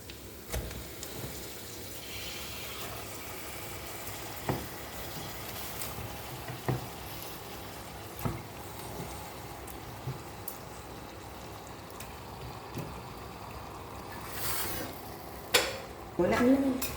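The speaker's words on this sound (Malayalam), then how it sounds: "നമുക്കതിലേക്ക് മട്ടൻ ഇട്ട് കൊടുക്കാം" Mutton fries in chili masala while being stirred: a soft, low sizzle under repeated faint clinks and scrapes of the spoon against the pot.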